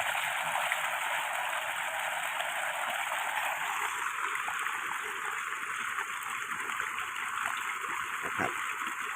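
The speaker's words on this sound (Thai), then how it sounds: "พี่น้องครับนี่นะครับแล้วก็ล้างขวดไว้" A bottle is rinsed under water: a continuous rushing, splashing flow runs steadily from start to finish, fairly close.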